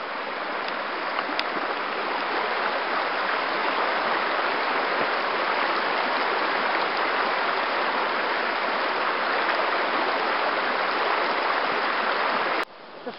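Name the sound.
small river stream flowing over rocks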